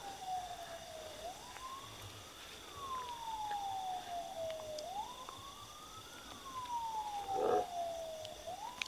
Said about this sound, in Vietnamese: Nó sợ cái tiếng xe cấp cứu.